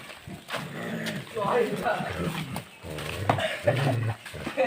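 Low, rumbling dog growls rise and fall close by near a village bus stand, mixed with voices talking over them.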